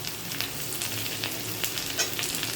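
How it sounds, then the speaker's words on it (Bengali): Steady, close sizzling of onions frying in hot oil, a dense crackling hiss with scattered pops and no talking. "এবার আমি পেঁয়াজটা দিয়ে দেবো"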